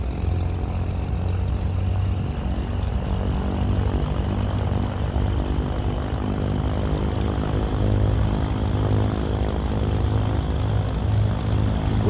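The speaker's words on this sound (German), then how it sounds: "Linkes Triebwerk läuft." Left engine of a Cessna 414 Chancellor running up in Microsoft Flight Simulator, a loud, steady piston-propeller drone with a low thrumming hum that holds constant throughout, with no speech.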